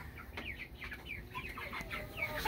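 Brahma and silver laced chickens cluck and chatter in a coop, several birds calling close by in overlapping short bursts over a steady farmyard background.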